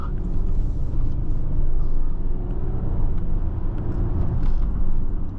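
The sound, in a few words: 2019 Audi Q8 3.0T interior while accelerating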